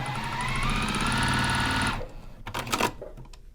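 A sewing machine runs at steady speed while piecing quilt block pieces in a four-patch layout, a close mechanical whir for two seconds, then stops, followed by a few brief clicks and handling noises.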